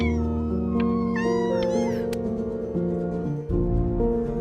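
A cat in the video game Before Your Eyes gives several drawn-out meows over a continuous bed of game music, clear and close, without speech.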